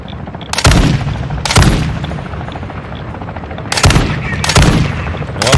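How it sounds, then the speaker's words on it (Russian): Machine gun fire in the Warzone 2 DMZ video game: four loud, close bursts of rapid shots, each lasting about a third of a second, spread across a steady background rumble. "Вообще не точный пулемет."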